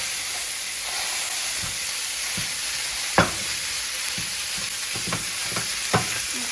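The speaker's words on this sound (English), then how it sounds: "we're going to put the meat in the pan." Ground meat sizzling in a hot pan, a steady frying hiss throughout with scattered scraping and tapping of a utensil as it is broken up, close and alone.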